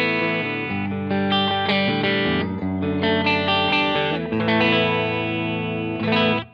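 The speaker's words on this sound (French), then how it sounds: "Je rajoute un petit reverb." Electric guitar on the bridge pickup playing chords and notes, washed in light reverb with a spacious, lingering tail, loud and continuous with no voices.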